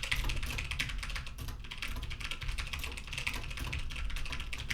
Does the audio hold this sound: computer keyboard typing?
yes